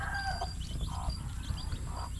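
Chickens cluck and call intermittently, fairly faint, over a constant background hum and outdoor noise.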